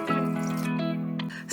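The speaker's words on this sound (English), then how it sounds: "Finally, we're going to add 1 litre of water." Water pours into a saucepan of lentils, a short continuous splashing fill with a ringing, hollow tone from the pot, close and fairly quiet.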